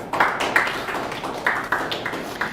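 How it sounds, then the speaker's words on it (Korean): A church congregation at a Wednesday worship service claps. Fairly close, scattered claps come in loose bursts with a roughly regular rhythm and moderate loudness. "하나님께 영광의 박수를."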